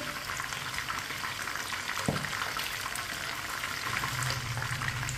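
Chicken frying in oil in a pan over a medium flame gives a steady close sizzle and crackle. A brief clink sounds midway through, and no one speaks.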